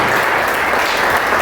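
A church congregation applauds during a Spanish-language Sunday service, dense continuous clapping filling the room at a steady, loud level for a brief moment.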